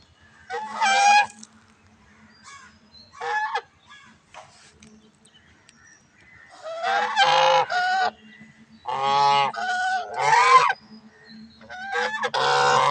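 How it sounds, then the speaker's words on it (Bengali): An angry goose honks loudly and close by in several harsh, repeated bursts separated by short pauses, with a low background hum in between. "রাজহাঁস খেপে গেছে"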